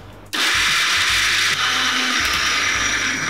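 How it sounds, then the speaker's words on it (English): A food processor grinds a spice paste for Thai-style khao swe curry, a loud, steady motor whir starting abruptly after a brief quiet moment and running continuously to the end. "Now let the food processor do all the hard work."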